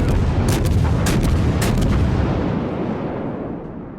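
Naval artillery in the World of Warships video game: a rapid volley of several loud booming gunshots in the first two seconds, their rumble rolling on and fading slowly afterward, with no talk.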